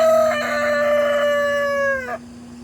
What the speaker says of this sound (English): Got too many damn roosters.